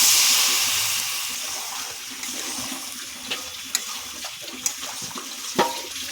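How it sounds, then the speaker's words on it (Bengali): Water poured into a pan of potato curry (aloo dum): a steady rushing pour that tapers off over a few seconds, followed by soft clinks and a brief scrape near the end. "অল্প একটু জল দেবো।"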